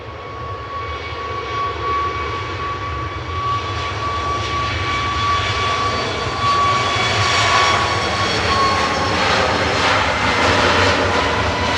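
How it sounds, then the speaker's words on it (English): A Jet2 airliner on a positioning flight from Edinburgh taxis off the runway at Manchester Airport, a steady loud engine roar with a high whine, rising slightly as it passes nearby. "Nice quick exit off the runway there from the Jet2 positioning flight from Edinburgh."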